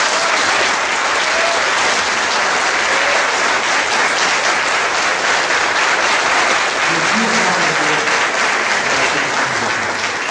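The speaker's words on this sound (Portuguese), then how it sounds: "Dá uma salva de palmas para Jesus, bem forte." A church congregation applauds for Jesus during a Portuguese-language sermon, a loud, dense, sustained wash of clapping from many hands that holds steady for the full stretch with no talk.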